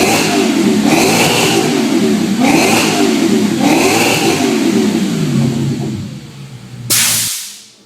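A B6 Audi S4 with the 4.2 V8 and custom Jsport exhaust and downpipes revs hard in repeated swells, loud and close, then drops back toward idle before one final sharp burst.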